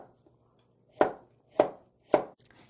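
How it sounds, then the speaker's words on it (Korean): A knife slices vegetables thinly on a cutting board for water kimchi, three crisp, evenly spaced chops ringing out clearly against near silence. "최대한 얇게 썰어주세요."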